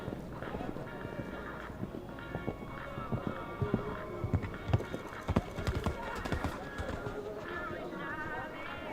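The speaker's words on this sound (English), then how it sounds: "Got the horse in a very nice canter." A horse canters through a show jumping arena at an FEI Jumping World Challenge final, its hoofbeats landing in a steady, rhythmic pattern, fairly faint, beneath commentators talking throughout.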